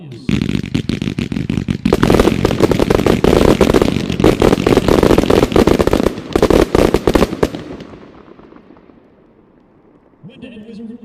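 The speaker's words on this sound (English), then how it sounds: "number 23 from the Wizard Pro line, 81 shot X-shape, red, green, blue tail to white strobe and multicolored dahlias" An 81-shot X-shape Wizard Pro fireworks cake fires a dense, rapid barrage of booming launches and crackling strobes at a fireworks expo demo. The barrage fades out, and voices follow at the end.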